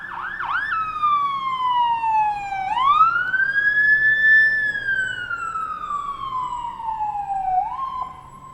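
Fire truck siren wailing loud and close, sweeping down and up in long slow glides as the vehicle passes, with faint road traffic underneath and no talking.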